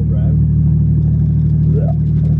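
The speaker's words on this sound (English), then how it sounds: "Give it a little rev." A Nissan R34 Skyline idles with a close, deep engine rumble after a shift-kit install, then a short rev rises and falls near the end. A voice is heard over the engine.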